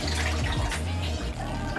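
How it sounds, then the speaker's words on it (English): Water gushes steadily as it is poured, along with noodles, into an ice bath, a close, continuous splashing pour with no voices. "I'll just pour it in and then pour the noodles back inside afterwards"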